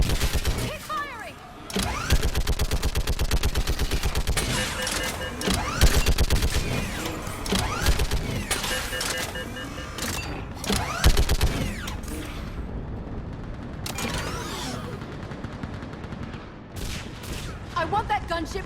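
Heavy gunfire in Mass Effect 3 during a battle on Thessia, bursts of automatic fire and sharp blasts layered with shouted voices and mechanical combat noise, loud and sustained with brief lulls.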